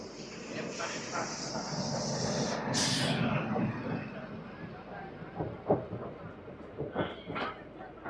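A MEMU suburban train pulls out of Puttur railway station, with a loud steady rolling rumble and hiss and a brief high squeal, followed by a few sharp rhythmic clanks of wheels over rail joints.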